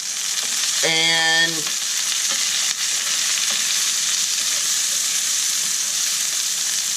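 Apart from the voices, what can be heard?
stirring caramelized risotto ingredients sizzling in pan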